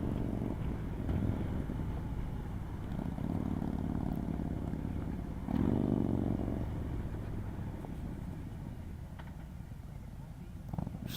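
A 2018 Harley-Davidson Road Glide Special rolls along slowly, its low engine rumble steady beneath heavy wind buffeting, with a muffled voice partly heard over it.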